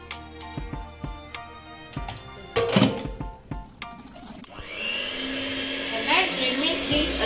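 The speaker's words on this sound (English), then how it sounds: "we are going to use our mixer again to mix everything" An electric mixer whirs through sponge cake batter, starting with scattered knocks and clatter before a steady, loud motor drone takes over in the second half.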